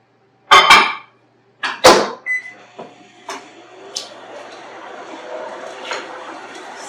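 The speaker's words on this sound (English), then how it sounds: "I warm this cup of milk in the microwave for 30 seconds." A few sharp clunks like a microwave door shutting and button presses, then a short beep, followed by a quiet steady hum of the microwave running while warming a cup of milk.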